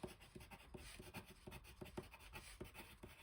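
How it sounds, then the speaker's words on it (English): Soft, quiet scratching strokes of a Derwent Inktense pencil moving across paper, rhythmic and close, with short repeated scrapes and no talking. "I love the sound of pencils across the page."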